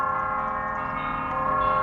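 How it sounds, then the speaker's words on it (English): Bells ring during a livestream, a sustained, even metallic drone of overlapping tones at moderate level, with no one talking. "if them bells are overpowering or not"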